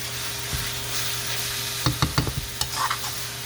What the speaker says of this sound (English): you want that ginger to get cooked a little bit